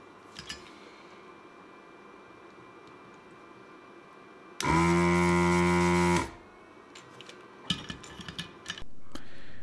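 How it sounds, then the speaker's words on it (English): A loud, steady mechanical whirring of a Proskit desoldering gun's vacuum pump sucking solder runs for about one and a half seconds then winds down, amid quiet ticks and clicks. "The Proskit features a vacuum pump which continuously sucks for as long as you hold the trigger."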